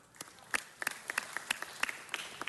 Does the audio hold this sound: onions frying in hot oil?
no